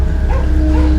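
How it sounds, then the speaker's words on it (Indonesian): A short burst of dog barking or yipping, close and fairly loud, over a steady low hum, with no talking. "dengar tuh Pak, ada anjing menggonggong Pak."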